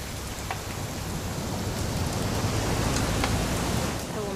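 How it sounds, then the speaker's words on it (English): Steady rain in the video game What Remains of Edith Finch patters densely and evenly, a constant hiss of drops with a few brighter splashes, no voices. "It's going to rain the whole weekend"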